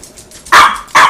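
Remy, a dog in professional training, lets out two sharp, loud barks close by, the second following a short pause after the first.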